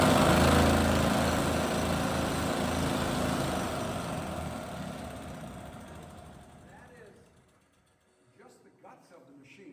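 A mining drill machine running underground in a mine gives a loud, dense mechanical roar that holds steady, then fades away over several seconds, leaving near quiet with faint sounds at the end.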